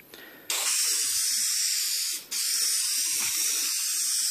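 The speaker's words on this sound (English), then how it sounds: "spray a coat of adhesive around the whole panel" Adhesive sprays onto a door panel for a 1930 Ford Model A interior in two long, loud, steady hissing bursts, separated by a brief pause, close to the microphone.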